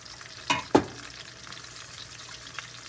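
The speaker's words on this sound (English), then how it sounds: "More stirring." A spoon or whisk stirring Alfredo sauce in a pan: two sharp scraping clinks close together, then a soft bubbling simmer with a faint later tap, with no talking.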